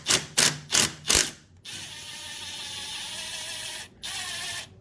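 A ten-inch ratchet wrench with an 8 mm socket works on the starter bolts of a 2016 Kawasaki ZX10: four quick, loud clicking ratchet bursts, then a steady mechanical whirring hum that stops briefly and resumes, all close by.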